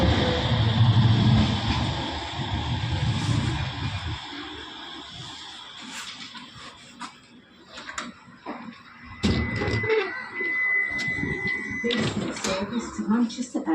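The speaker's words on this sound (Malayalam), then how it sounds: "അടുത്ത ട്രാം വന്നു" A tram on the Manchester Airport service pulls into a UK stop with a broad rumbling rush, then a sustained high squeal mid-way, with people talking nearby throughout.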